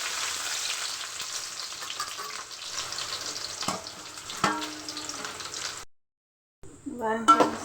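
Onions and fenugreek frying in a pan for a fish curry, a steady sizzle that rises and falls, broken by a few sharp crackles and a brief gap of silence before the frying returns loudly.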